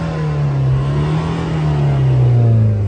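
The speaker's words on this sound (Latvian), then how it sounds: "Motoriņš rūc ļoti labi, pareizi." A Ford Transit engine with a SID211 control unit and a freshly reactivated diesel particulate filter revs steadily. Its loud, close, sustained drone sags slightly in pitch, with no talking.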